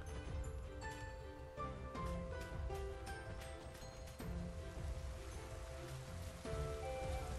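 Rain falls in Pokémon Sword's snowy Crown Tundra, a soft continuous patter on the ground set against a tonal game music bed, with gentle, steady drops and no voices.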